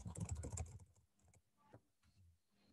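Someone types on a computer keyboard into a text box, a quick burst of close, soft key clicks at the start and then a few scattered taps that fade into near silence.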